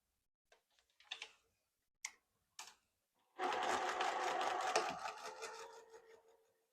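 A few faint taps and short bursts come first, then a sewing machine stitches steadily across fabric for a packing cube, its rapid mechanical whir lasting a few seconds before tapering off.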